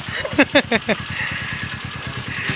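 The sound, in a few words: motorcycle engine idling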